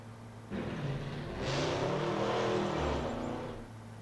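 A small 4-cylinder car in the Farming Simulator 25 video game drives past, its steady engine note swelling as it nears and fading away over a few seconds, with no talk.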